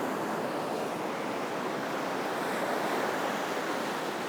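Surf washes steadily onto a beach during bait worming, a continuous close roar of breaking waves with wind noise and no voices.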